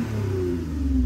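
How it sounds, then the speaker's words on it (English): A 2018–2024 Toyota Camry engine revs briefly as the gas pedal is pressed, a short low rumble rising in pitch, close and fairly loud. "now watch my foot and listen to the gas pedal"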